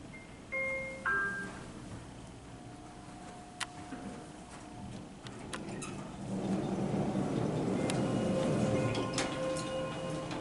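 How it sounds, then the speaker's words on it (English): A short electronic elevator down chime rings out clearly twice early on, followed by quiet mechanical hum and faint clicks of machinery, from a Schindler 3300 machine-room-less elevator. "I'll be quiet here so you can listen to the down chime on these."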